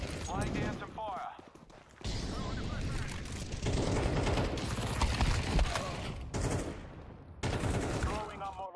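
Gunfire in the video game Counter-Strike 2, bursts of shots and rapid automatic fire mixed with game action noise, with a voice speaking at times over the sounds.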